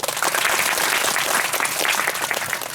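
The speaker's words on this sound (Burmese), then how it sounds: "အားလုံးလက်ခုပ်တီးအောင်" Dense, sustained applause from an audience at a Christmas church mission gathering, loud and continuous throughout with no talk over it.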